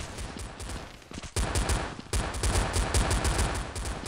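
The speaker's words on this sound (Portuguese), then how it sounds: "às vezes a pistola mata com 3 tiros" Pistol fire in the online shooter Blood Strike: a dense, loud string of rapid shots with brief pauses, mixed with other in-game gunfire and match noise throughout.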